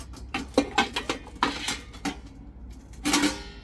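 Metal plates of a Cello idli cooker clatter and clink as they are handled, a run of sharp, close knocks and rattles with a brief pause before a final louder clash; no one speaks.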